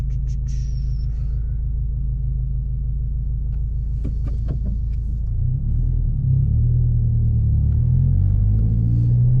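A 2022 Subaru WRX on new Enkei RPF1 wheels and Michelin Pilot Sport 4S tires, heard from inside the cabin with the windows up, gives a steady deep engine rumble that swells as it accelerates in the second half.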